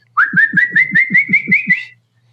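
A person whistles a steady rising then level tone, pulsed about eight times by breath bursts over roughly two seconds, loud and close with no talking.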